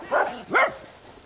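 A dog gives two short barks, close and fairly loud, during a group walk with several dogs, with quiet outdoor background between them.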